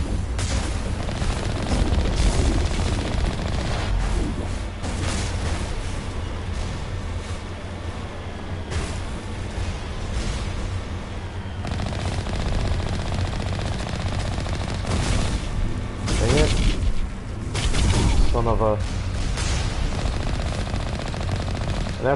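Video game combat in Mass Effect 1: sustained automatic weapon fire with booming impacts and blasts, dense and continuous over a steady rumbling background, with a few sharper bursts toward the end.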